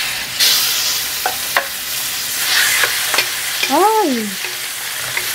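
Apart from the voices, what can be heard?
chicken frying and being stirred in a hot pan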